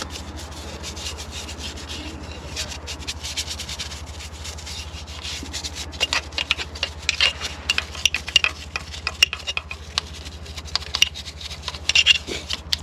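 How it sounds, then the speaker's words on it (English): A stiff brush scrubs over the engine bay of a Corvette C4, a steady scratchy rubbing that runs without a break and grows a little rougher and louder toward the end, alone with no voices. "And we'll just brush away."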